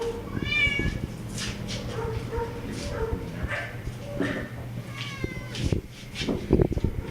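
Several cats meow repeatedly in a humane society cat isolation room, clear rising calls over a steady background hum, with a dog barking faintly and a person talking nearby.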